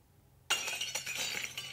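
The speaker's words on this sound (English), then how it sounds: "we wait a little bit, and it shatters into a million pieces" A coded glass block shattering in a game animation: after half a second of near silence, a sudden bright crash of breaking glass, then a tinkling cascade of small shards clinking and scattering for over a second.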